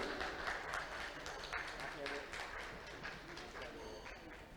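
Audience applause at a book launch for a volume on the forts of the Maluku Islands, Ternate and Tidore: steady, dense clapping from a crowded hall, sustained for several seconds at moderate level with a bit of murmur mixed in.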